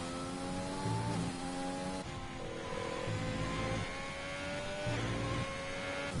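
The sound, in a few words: Formula 1 racing cars in a racing video game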